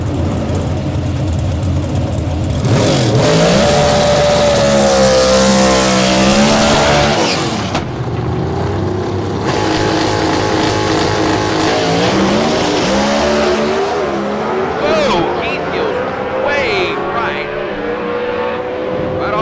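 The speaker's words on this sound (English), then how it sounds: "it's the best race car I ever drove, but this one's probably the funnest I ever drove." Race car engine at a Competition Eliminator drag race in Noble, Oklahoma, roaring loud and close throughout, with rising and falling revs and some tire squeal, while a voice talks over it.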